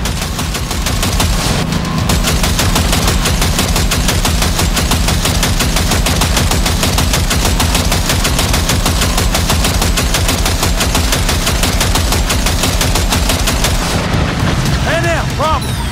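Vehicle-mounted machine gun firing in the video game Cyberpunk 2077, a loud, continuous rapid rattle of shots with dense booming underneath that carries on for most of the stretch before easing near the end.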